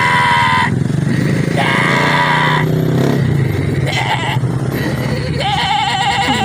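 A person loudly imitates a goat, letting out several wavering, quavering bleats in a row, close and strained, with short pauses between them.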